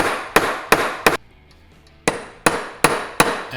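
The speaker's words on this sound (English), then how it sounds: "we get ready to hammer the rivets down and flatten them" Sharp, ringing metal-on-metal hammer blows flatten rivets on a Vespa Rally 200 primary cush drive plate, three quick strikes, a short pause, then four more at a steady rhythm, close and loud in a workshop.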